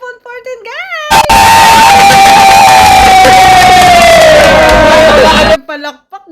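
A loud crowd erupts in cheering and screams, sustained for several seconds, with brief speech before and after.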